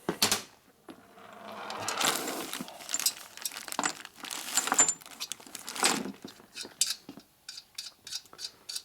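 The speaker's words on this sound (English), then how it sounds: "grab a wrench, take the nut off" A wrench on a nut at a Harley cylinder stud: scattered metallic clinks and shuffling, then a run of short, quick ratcheting clicks toward the end, close and fairly faint.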